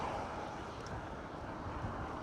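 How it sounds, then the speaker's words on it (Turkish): A strong headwind on a road near Çorum, Turkey, roars steadily against the microphone in a continuous, even buffeting rush with no voices. "Rüzgar da karşıdan öyle bir estiriyor ki"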